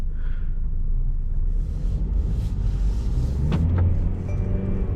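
A 2020 Mercedes E200d diesel engine idles as it warms up, a steady low rumble heard close, with a couple of faint clicks partway through.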